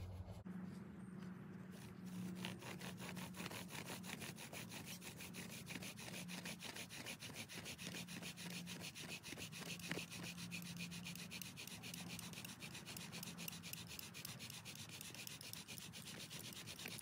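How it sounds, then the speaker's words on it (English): A sourwood bow drill spindle is worked back and forth on a sourwood fireboard under a fatwood bearing block in the woods, producing a steady, rapid rhythmic rasping of wood friction that continues evenly for many seconds without speech. "Sourwood on sourwood, fatwood bearing block, and a Tulip Poplar tinder bundle. Going for the burn in."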